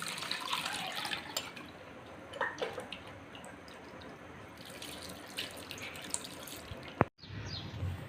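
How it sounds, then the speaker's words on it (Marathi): Wheat starch liquid is strained, giving a continuous trickling and dripping with occasional splashes and a sharp knock near the end. "हा चिक आता आपण गाळून घेऊया."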